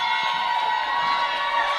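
An ice hockey crowd roars and cheers in a dense, loud, continuous wall of voices while players hammer their sticks on the ice, with no clear individual knocks standing out.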